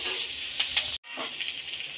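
Onions and ginger fry in a pan, giving a steady bright sizzle broken by a brief sharp cutoff near the middle before the hiss resumes, close and continuous.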